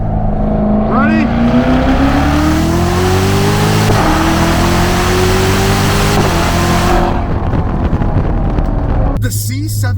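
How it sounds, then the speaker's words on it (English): Chevrolet Corvette C7 Z06 floored from a roll in second gear, its engine note climbing steadily and loudly through the revs, briefly dipping around a shift before rising again, then cutting off near the end. "This car is about what happens when you're rolling in second gear and floor it"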